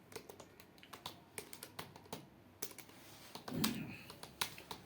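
Rapid typing on a computer keyboard during typing test practice, sharp irregular key clicks in quick bursts with a heavier thump near the middle, close and fairly quiet.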